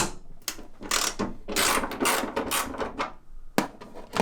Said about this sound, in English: And I'll loosen one nut and hopefully the hood don't fall.